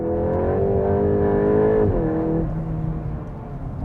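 A 2026 VW Golf GTI Edition 50, 325 hp, hums steadily, its low exhaust note rising slightly then settling into a soft, rumbling burble from the rear, heard close with no voices.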